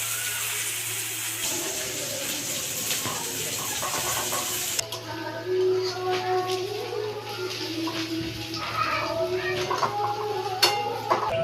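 Onions sizzling as they fry in a pan, a steady hiss under occasional stirring clatter, close and moderately loud.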